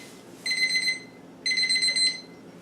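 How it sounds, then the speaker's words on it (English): A kitchen oven timer goes off while snickerdoodle cookies bake, sounding two bursts of rapid, high electronic beeping separated by a short pause, clear and fairly close with no talking. "Okay, the timer is about to go off."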